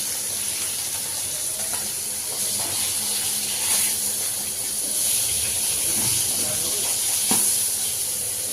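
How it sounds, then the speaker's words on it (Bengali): Fish and shrimp heads fry in hot oil, a dense continuous sizzle and hiss with scattered sharp pops and spatters, while a voice talks faintly in the background. "প্রচুর ফাটে কিন্তু এই মাছগুলো"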